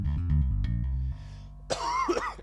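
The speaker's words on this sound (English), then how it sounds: "I apologize for the coughing." Harsh coughing bursts from someone with allergies, following a held, tonal guitar-like note that cuts off; the coughs come in a short, loud cluster near the end.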